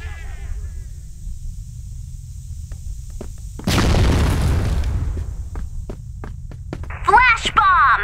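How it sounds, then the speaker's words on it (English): A smoke grenade goes off in a first-person shooter, a sudden hissing burst lasting about a second over a steady low hum, followed by scattered clicks and a voice at the end. "Smoking grenade!"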